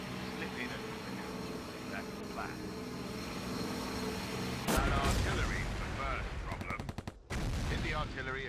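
Artillery and gunfire in the flight combat game Air Conflicts Secret Wars: continuous engine drone gives way to loud, dense bursts of shooting and explosions, with radio-style voices talking over the action.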